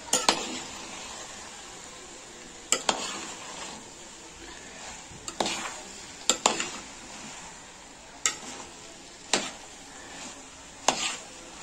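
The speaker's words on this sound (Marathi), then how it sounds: "तर त्या भाजी शिजलेल्या मध्ये आपण सर्व मिक्स करून घेणार आहोत" White rice being stirred into cooked vegetables in a pot for vegetable pulao, a string of sharp metal spoon scrapes and clinks against the pan, evenly spaced over a faint background sizzle.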